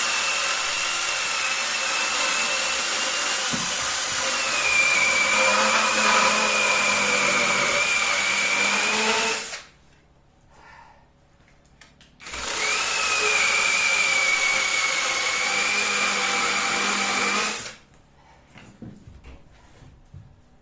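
A power saw chewing through a thick log of firewood in cold winter weather, a loud sustained whine with a rising pitch under load, running in two long bursts separated by a short quiet pause, close by and with no talking.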